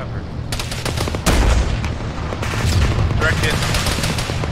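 Arma 3 firefight in an urban setting with loud, sustained gunfire: rapid overlapping shots and bursts, one heavy blast near the start, voices faintly underneath.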